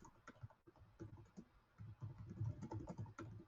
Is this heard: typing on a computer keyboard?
yes